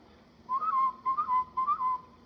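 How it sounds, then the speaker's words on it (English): A police whistle sounds as a signal in a 1941 mystery film, giving three short, clear, warbling blasts in an even rhythm, fairly loud and alone. "blow whistle to summon help."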